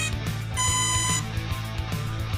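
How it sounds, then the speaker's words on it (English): A Nexaero F3 GPS drone battery, powered on with a long press of its button, gives a short electronic tone of about half a second, close and clear over a steady low hum and faint rhythmic clicking. "long press the power button on the battery until you hear the beeps."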